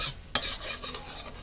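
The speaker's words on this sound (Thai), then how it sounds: "เคี่ยวพริกแกงให้แตกมันก่อน" Scraping and stirring of thick curry paste for pineapple curry simmering in a wok until its oil separates, with a light sizzle and a sharp utensil scrape near the start, close and busy; no talking.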